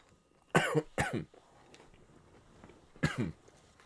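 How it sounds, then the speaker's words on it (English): Three sharp coughs close to the microphone, two in quick succession and then a single one after a short pause, in an otherwise quiet room. "The coughing means it's working."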